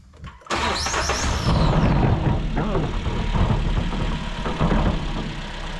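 A Jeep Renegade with a coolant leak from a broken reservoir neck cranks briefly and catches, then settles into a loud, steady idle close by with a slightly uneven mechanical rattle.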